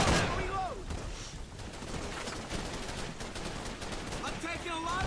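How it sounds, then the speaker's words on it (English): Sustained gunfire in a shooter video game, a busy rattle of overlapping shots and distant blasts running throughout, with a few whistling tones and faint voices mixed in. "I'm taking a lot of fire over here."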